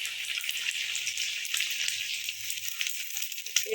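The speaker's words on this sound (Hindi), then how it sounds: "एक एक करके अंडा लगाते जाएं और इसे इस तरह घी में रखते जाएं, फ्राई करें" Egg-dipped potato and chicken cutlets sizzle steadily in hot ghee, a bright continuous crackle of frying with small pops throughout, close and fairly quiet with no talking.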